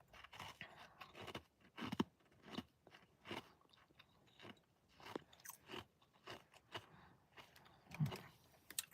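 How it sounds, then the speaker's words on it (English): Ice crunched between the teeth while eating at night, a series of sharp, close bites and crackly chews repeating irregularly and fairly quietly, with no talking. "Can you hear my ice crunching?"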